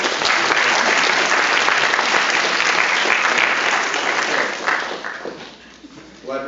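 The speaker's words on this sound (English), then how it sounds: "So give them another round of applause." Loud, dense applause from a crowd at a military battalion change of command ceremony, sustained for several seconds before fading, with a voice starting up at the end.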